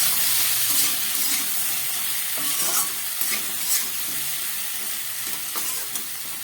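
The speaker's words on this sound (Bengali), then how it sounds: "সামান্য নুন আর একটু পরিমাণ মতো হলুদ দিয়ে আমি সবজিগুলোকে খুব ভালো করে এবার কিছুক্ষণ ভেজে নেব" Vegetables fry steadily in a pan with salt and turmeric for a Bengali fish-head and Malabar spinach curry, giving a loud, continuous sizzle with occasional stirring clicks and no voices.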